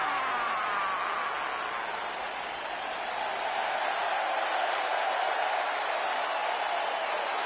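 An arena crowd in WWE 2K19 applauds and cheers in a steady, dense wash of clapping and crowd noise that holds through the whole stretch.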